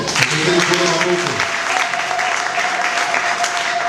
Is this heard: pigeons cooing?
no